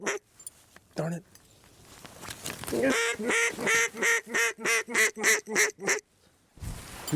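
Ducks call in a series of about ten rhythmic nasal quacks, loud and close, with a hen pintail hovering overhead during a duck hunt; a few isolated calls come first and another follows the run.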